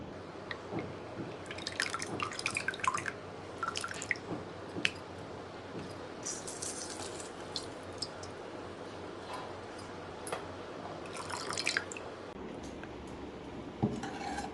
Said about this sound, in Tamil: நம்ம லெமன் ஜூஸை இப்போ பிழிஞ்சு விட்டுக்கலாம்.